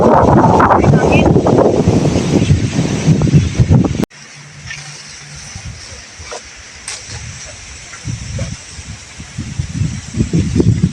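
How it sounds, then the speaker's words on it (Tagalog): Loud wind buffets the microphone in heavy gusts, then drops to a quieter rushing; brief voices come through near the end. "Ay, hangin."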